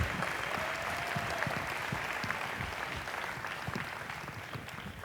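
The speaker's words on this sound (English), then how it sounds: "Give her a big hand." Applause fills the hall at an award show, a close, steady patter of many clapping hands that slowly tapers off over a few seconds.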